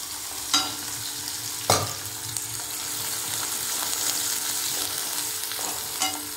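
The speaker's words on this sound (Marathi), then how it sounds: "कांदा व्यवस्थित लाल होऊ द्यायचा।" Finely chopped onion frying in a pan until browned for an egg chutney (anda bhurji), giving a steady, close sizzle with a few louder stirring scrapes and knocks against the pan; no speech.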